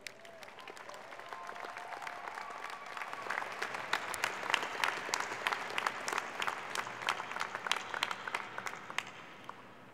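An audience claps at a college diploma and awards ceremony. The applause starts light, builds into a full round with distinct individual claps, then eases off toward the close.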